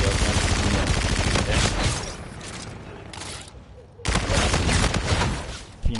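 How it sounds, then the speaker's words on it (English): Sustained bursts of automatic gunfire in a competitive shooter game, loud and dense, dropping briefly to a quieter stretch before another heavy volley, with a commentator talking over the fighting. "Seen a lot of bullets getting shot."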